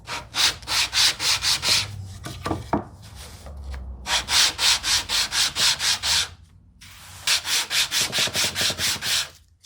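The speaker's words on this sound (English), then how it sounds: "I take a sanding stick and I just clean up the fuzz" A sanding stick scrubs fuzz off a freshly cut rabbet in a wooden jewelry box, rapid rhythmic back-and-forth rasping strokes in three close bursts with short pauses between.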